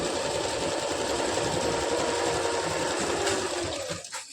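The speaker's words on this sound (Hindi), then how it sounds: "इस तरह से हमको इसमें सिलाई लगाते हुए जाना है" A sewing machine runs steadily, stitching elastic onto palazzo pants, with a close, loud, continuous whir that stops abruptly near the end.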